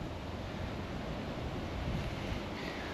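Steady wind gusts outdoors beside Langstroth beehives in the rain, a continuous broad rushing with slight swells and no voices.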